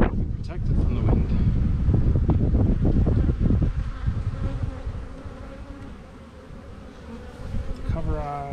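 Honeybees being shaken into a hive give a dense, close buzzing hum under gusty wind noise on the microphone. Knocks and thumps come first, then the buzz settles into a steady drone.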